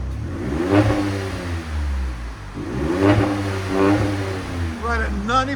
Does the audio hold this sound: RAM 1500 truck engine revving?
yes